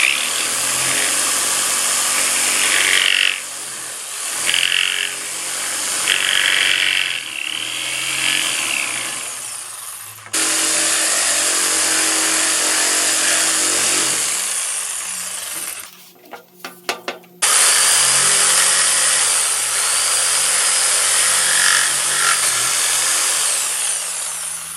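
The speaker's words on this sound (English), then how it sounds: "This is an excellent jigsaw" A Bosch 50th anniversary jigsaw cuts through wood with a loud, sustained high-pitched buzz, broken by a few brief stops and restarts, and a clatter near the middle before the cutting resumes.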